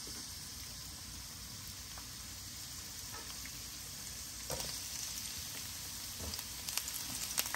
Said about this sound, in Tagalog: Lalagay lang ako ng mantika, sibuyas.